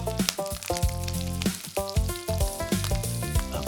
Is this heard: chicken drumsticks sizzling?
yes